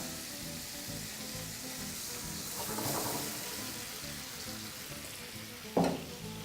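Apples and sugar caramelizing in a pan give a steady, close frying sizzle throughout, with a brief stirring swell midway and a sharp clatter near the end.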